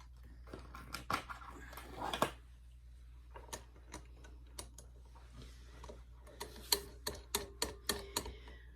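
A snap-attaching machine works on a slouchy sewn scarf, producing a run of sharp, irregular clicks and taps up close, with busier clusters at the start and the end.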